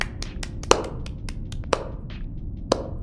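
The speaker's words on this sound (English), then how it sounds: "Whoa, round of applause." A few sharp, scattered hand claps, three standing out loudly, spaced about a second apart amid a background hiss, during a sci-fi audio drama podcast segment.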